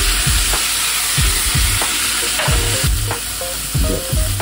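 Costco pork back ribs sizzle in a frying pan with sauce over high heat, a dense, constant hiss of frying, with occasional soft scrapes and knocks of a utensil against the pan and no voices.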